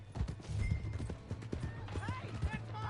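Horse hooves clip-clop in the video game Red Dead Redemption 2, a quick, irregular trotting rhythm close by, with a brief whinny and voices talking over it.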